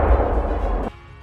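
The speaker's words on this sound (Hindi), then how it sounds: "इस ग्रेनेड अटैक से जोरदार धमाका हुआ और पूरा इलाका थर्रा उठा।" A grenade thrown from a moving e-rickshaw explodes in a loud, dense blast whose booming rumble holds for nearly a second before cutting off sharply to a low residual hum.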